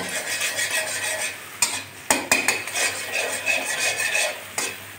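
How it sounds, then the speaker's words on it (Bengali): Beaten egg scrambled and fried in hot oil in a pan, a steady sizzle with repeated scraping and clinks of a utensil breaking it into small crumbs, close up with no talking. "ভেঙে ভেঙে ভেজে নেব গুঁড়ো গুঁড়ো করে।"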